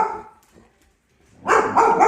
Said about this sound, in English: Doesn't know why he's barking.